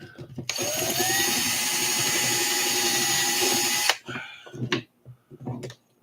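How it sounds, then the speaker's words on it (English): A power drill whines at a steady high pitch for about three seconds as it bores into the plastic body pins of an RC car. It stops, followed by light handling clatter and brief quiet talk. "So all you gotta do is drill a little bit into them"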